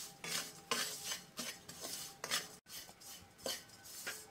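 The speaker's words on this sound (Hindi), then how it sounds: "सभी मसाले डालने के बाद मैंने 2 से 3 मिनट कम आँच पे भून लिया है लगातार चलाते हुए।" A spoon stirs spices and baby potatoes roasting in a pan over low heat, a continuous run of rhythmic scraping and rattling strokes, close but fairly quiet, with no speech.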